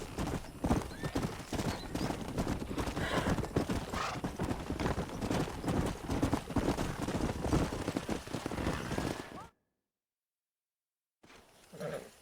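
In a Red Dead Redemption game scene, horse hooves clip-clop in a brisk, steady rhythm over dirt with occasional whinnies, close and continuous before cutting to a brief silence, then resuming faintly.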